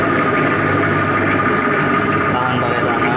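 A workshop bench drilling machine runs steadily as it bores into a workpiece, a continuous close mechanical hum with a constant rotating drone and no breaks.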